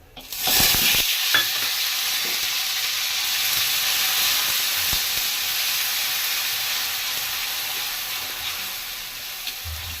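Cumin with ginger, garlic and onion paste fries in a hot pan on a low gas flame, a loud, continuous sizzle and hiss with occasional stirring scrapes throughout.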